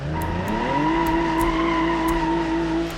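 A JBX100 car fitted with a stock 1JZ engine, driven in BeamNG.Drive, revs up with a steady, loud engine drone whose pitch rises and then holds, with brief tire-squeal bursts along the way and no talking.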